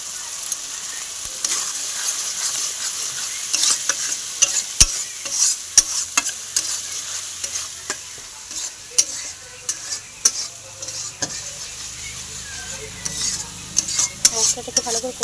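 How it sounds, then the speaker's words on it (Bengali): Spice paste for fish curry sizzles in hot oil while a spoon stirs and scrapes the pan, producing frequent sharp metallic clinks over a continuous frying hiss. "মশলাটাকে ভালো করে কষে নিতে হবে"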